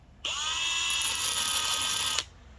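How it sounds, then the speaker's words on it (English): A small power drill whirs at a steady high pitch for about two seconds, starting and stopping abruptly, close by, lightly scuffing the metal terminal of a classic car instrument cluster light bulb. "And then just use your drill and just softly"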